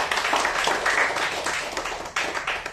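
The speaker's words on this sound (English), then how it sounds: "Request you to give them a really big round of applause." Audience at a talk on sports injury prevention claps in scattered, uneven bursts for about three seconds, moderately loud and close, with some separate sharp claps standing out.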